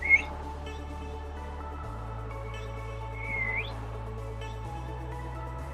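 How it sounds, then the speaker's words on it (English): Several short, faint whistled notes rise and fall over a low steady hum in a quiet indoor room, with a couple of gliding pitches spaced a few seconds apart. "that whistle was necessary"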